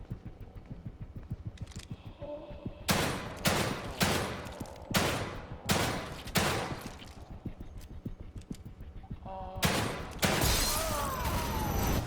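Gunfire in The Evil Within 2 video game: a run of sharp, loud shots in uneven bursts, some closely spaced, over a low rumbling background, with a final cluster of blasts near the end.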